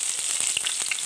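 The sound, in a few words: frying shallots in a pan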